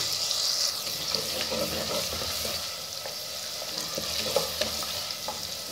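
Onions sautéed until soft in a pot, giving a continuous steady sizzle with light occasional stirring scrapes, close and fairly loud.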